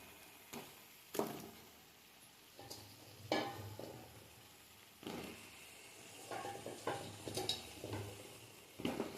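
Cut drumstick pieces dropped into tomato gravy and stirred in a pan, soft intermittent scraping and clinking with a low simmering hiss, fairly quiet and close.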